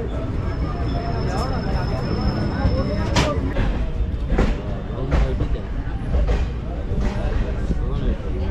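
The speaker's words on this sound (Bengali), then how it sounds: "7:54 আমাদের ট্রেন বর্ধমান থেকে ছেড়ে দিল।" The 13017 Ganadevata Express pulls out of Bardhaman, a steady loud rumble and rattle from inside a crowded carriage, with a few sharper knocks along the way and faint chatter from people on board.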